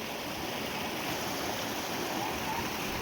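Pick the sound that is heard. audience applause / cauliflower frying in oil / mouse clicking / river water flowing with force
river water flowing with force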